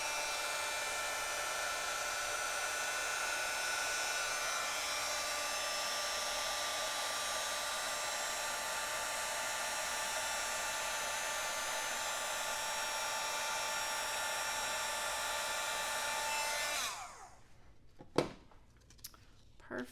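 A heat embossing tool blows hot air in a steady, even whir for about seventeen seconds, then cuts off, leaving a few small clicks and taps in near quiet.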